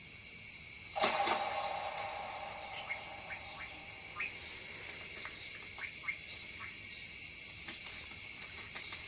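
A female white-bellied frog calling in a rainforest, several short chirping notes scattered over a steady high insect drone.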